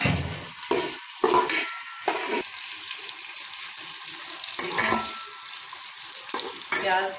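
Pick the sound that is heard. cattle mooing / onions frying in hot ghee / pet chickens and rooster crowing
onions frying in hot ghee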